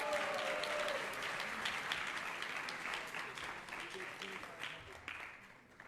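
A crowd at an ISKCON New York fundraiser gives a round of applause for a pledge giver, a steady wash of many hands clapping that thins out toward the end, heard slightly distant.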